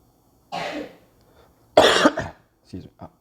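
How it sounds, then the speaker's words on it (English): Two sharp, close coughs from a person during a pathophysiology lecture, followed by a couple of smaller throat-clearing bursts, with quiet pauses between. "now we're having a coughing contest"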